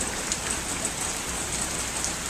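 Pouring morning rain at the Waterloo battlefield: a dense, constant hiss of drops striking surfaces nearby, with a few sharper individual splashes, and no one speaking.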